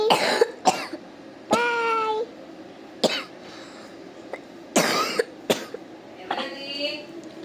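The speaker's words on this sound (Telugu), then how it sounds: "మా చెల్లి కూడా కాఫ్ చేస్తుంది" A girl sick with a cold coughs repeatedly in short bursts, several separate harsh coughs spread across the moment, with some throat-clearing and breathy vocal sounds between them, close and fairly loud.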